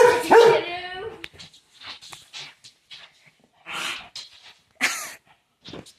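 A dog lets out a loud, close burst of barking at the start, followed by softer yips, whimpers and panting sounds in scattered short bursts.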